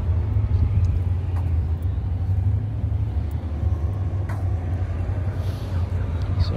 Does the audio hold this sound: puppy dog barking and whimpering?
no